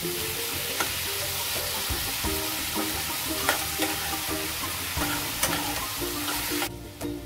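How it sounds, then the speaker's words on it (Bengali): A spice paste with ginger paste sizzles steadily in a hot pan while a utensil scrapes and taps in a loose rhythm, close and continuous, with no voices. "এবার সব মশলাটা আমি একটু কষাবো।"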